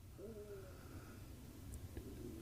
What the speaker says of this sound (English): And when the owl screeched